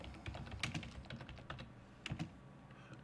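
Quiet keystrokes on a computer keyboard, including a Control V paste, come as irregular soft clicks in two small bursts with a pause between them, alone and without voices.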